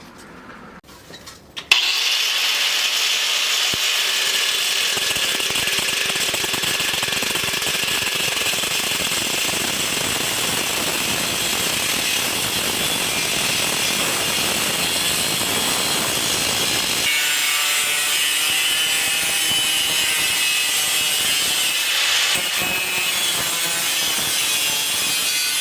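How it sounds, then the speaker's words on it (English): A 4-inch angle grinder cuts off a piece of steel on a log arch build, its disc loud and steady for about fifteen seconds before the pitch shifts and the cut continues more roughly to the end; no one speaks. "We'll use a 4-inch grinder and whack it off."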